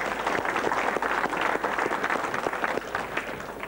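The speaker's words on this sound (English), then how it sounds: "so perhaps again another clap" An audience at a 1996 reunion of Grenda's Bus Service staff claps in steady, moderately loud applause, a close-packed patter of many hands continuing throughout.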